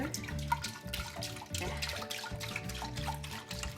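Half and half pours steadily into a pot, a continuous splashing, gurgling stream with a faint hum in the background.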